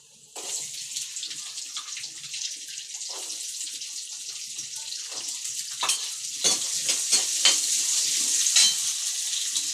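Small onions hit hot oil in a pan and set off a bright, hissing sizzle that swells and crackles, with scraping stirs, close and growing louder, and no one speaking.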